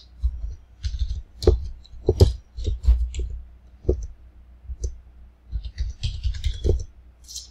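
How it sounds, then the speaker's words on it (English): Irregular bursts of computer keyboard typing and clicking, close and fairly loud, with short pauses between clusters of keystrokes, heard while entering a self-employed painter's details into tax software. "we hit escape on our keyboard, which is taking us out of each page"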